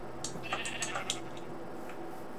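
Sheep bleating in the Minecraft video game, several short bleats in quick succession over the first second or so, then quieter, fainter calls trailing off against a low background hum.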